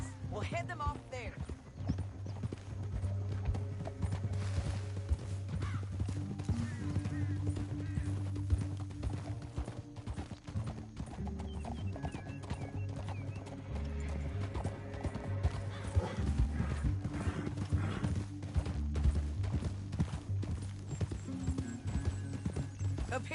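Galloping horse hooves in Red Dead Redemption 2 clatter steadily for a long stretch, with a horse whinnying and voices talking over the pounding.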